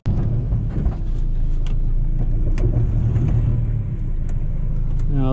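A car on a quick test run after gasket work and fresh paint, its engine rumbling loud and close in a steady drone with slight swells as it drives, no talking.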